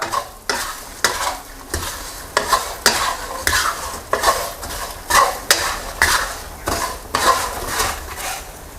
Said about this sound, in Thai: ใส่เนื้อปลาทอดลงไปได้เลยครับ ปรุงรสด้วยเกลือป่น น้ำตาลทราย คลุกเคล้าให้เข้ากันครับ